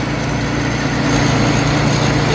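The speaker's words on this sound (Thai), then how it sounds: "เป็นเครื่องยนต์ฮีโน่ครับ KO 8C นะ" A Hino K08C truck engine runs steadily and close by, a continuous low droning hum with a faint higher whine, no voices over it.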